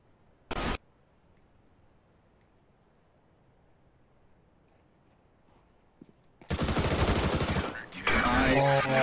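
Counter-Strike: Global Offensive gunfire, a short burst of shots near the start, then a long loud spray of rapid firing a few seconds later, close and dense, mixed with game noise.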